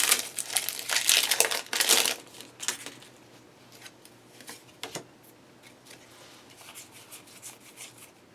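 Foil wrappers of Pokémon XY Roaring Skies booster packs crinkle loudly up close in bursts, fading to quieter rustling and a few sharp crackles afterward.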